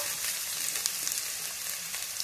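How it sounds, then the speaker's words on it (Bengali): Onions sizzle steadily in a little white oil in a pan as they fry toward reddish-brown, a close, continuous crackling hiss with occasional stirring and no talking. "পেঁয়াজটাকে কিন্তু লাল লাল করে ভেজে নিতে হবে"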